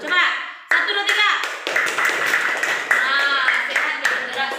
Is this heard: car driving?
no